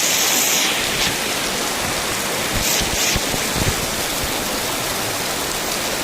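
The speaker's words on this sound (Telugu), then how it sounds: "ఇది వర్షం కాదు, వాటర్ ఫాల్స్ పడే వాటర్ ఇవి" Water from a waterfall near Penchalakona temple pours down in a steady, loud, broadband rush with no pauses, close by and uninterrupted.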